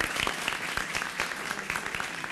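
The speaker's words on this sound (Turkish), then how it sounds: "Kocaman bir alkış da sizin için" A studio audience gives a big round of applause for visiting tourism and hotel management high school students, continuous dense clapping of many hands, loud and even from start to finish.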